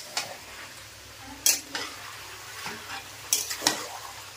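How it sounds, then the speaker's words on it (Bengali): Food fries quietly in oil in a pan, with a soft sizzle broken by a few sharp scrapes and clinks of a utensil stirring against the metal. "এই যে গাইস দেখো তেলেতে ভাজা হচ্ছে"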